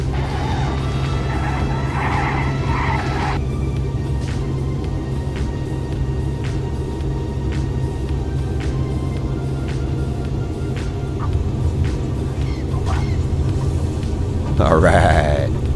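Aircraft touches down and rolls along a runway in a flight simulator game, a steady engine and rolling rumble with periodic soft thumps, a sharper burst near the end, alongside a speaking voice.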